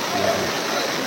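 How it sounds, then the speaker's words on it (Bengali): Rain falls steadily, a dense even hiss that fills the short moment, close and fairly loud, with no break or change. "পানির আওয়াজ হচ্ছে।"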